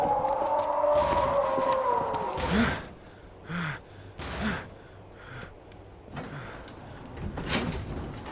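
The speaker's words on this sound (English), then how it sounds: "The scream sounds like a metal scream." A strained, harsh scream with a gritty, rasping texture rises and breaks off, followed by quieter breathy bursts and gasps; no speech.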